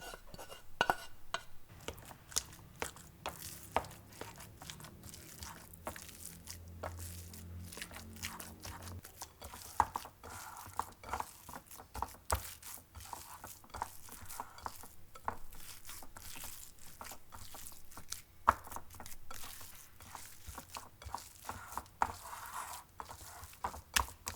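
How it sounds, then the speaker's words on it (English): Ground meatloaf mixture with sautéed garlic and onions worked by hand or utensil in a bowl, a steady run of soft squelching, tapping and clinking close by, with no talking. "Add the sautéed garlic and onions and mix thoroughly"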